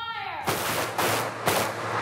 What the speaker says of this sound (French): Owen essaye un pistolet semi-automatique.